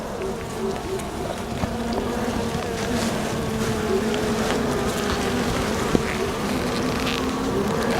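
Honeybees swarm over the frames of an open beehive, Hive 2, with the queen on one frame, making a dense, steady buzzing hum that stays close and loud throughout.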